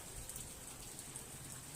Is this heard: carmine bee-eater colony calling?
no